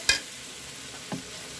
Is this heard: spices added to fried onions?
yes